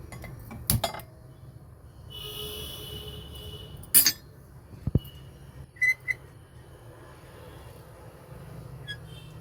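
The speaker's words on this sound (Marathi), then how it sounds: "आता आपण गॅस चालू करून भांड्यात तेल घालून घेऊ।" A pan is set on a gas stove for cabbage bhaji and oil is poured in, with a few sharp metallic clinks and clanks scattered over a quiet background and a faint hiss.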